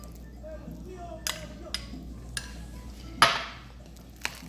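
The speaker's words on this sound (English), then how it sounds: "I'm going to add about a half a cup of cheddar cheese. And I'm going to mix it into the mixture." Cheddar cheese being stirred into mashed potatoes for a Puerto Rican-style shepherd's pie, with a few sharp scrapes and clinks of a utensil against the bowl over a quiet kitchen background.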